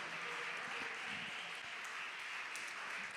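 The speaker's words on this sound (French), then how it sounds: "Exaucé, monsieur Exaucé Loubana sous vos applaudissements." Faint, distant applause for a choir director at a choral federation awards ceremony, a soft even spatter of clapping that carries steadily throughout.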